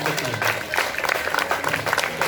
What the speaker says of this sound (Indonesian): Sekali lagi sebelum duduk, tepuk tangan sekeras-kerasnya.